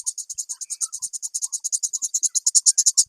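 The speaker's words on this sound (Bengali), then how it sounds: "এই যে একটা ঝিঝি পোকার একটা ডাক শোনা যায়" A cricket chirps outdoors beside onion and rice fields in Munshiganj, giving a loud, close, rapid train of evenly spaced pulses over near-silent surroundings.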